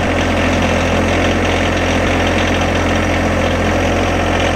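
A 2017 tractor engine with about 560 hours idles steadily while warming up after a cold start, a loud, continuous low throb with no break and no talking.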